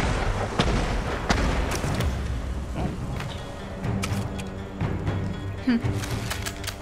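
Booming signal cannon shots from the video game Ghost of Tsushima ring out several times over a dense battle soundscape, with someone talking over the action.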